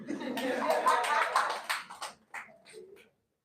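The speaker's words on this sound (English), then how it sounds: "Clap for her." An audience at a live academy session claps for about two seconds. The applause fades quickly, and a few voices follow before silence.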